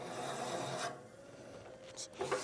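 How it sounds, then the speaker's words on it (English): A large drill bit bores into wood held on a Laguna 1216 midi lathe at slow speed, giving a steady rasping, grinding rub for most of the moment before easing off, with a few brief scraping bursts near the end. "And then you use the quill to start drilling."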